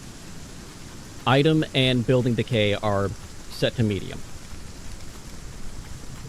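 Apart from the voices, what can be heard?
heavy rain storm in a video game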